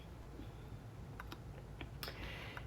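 Soft, scattered clicks from a computer mouse and keyboard during an online event registration, a few sharp taps over a quiet room hiss.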